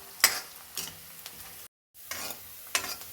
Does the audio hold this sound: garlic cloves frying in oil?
yes